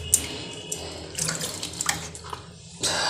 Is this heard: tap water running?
yes